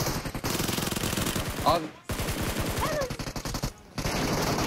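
Automatic gunfire in the mobile battle royale game PUBG Mobile, dense rapid bursts with two short gaps, steady and loud while players talk over it.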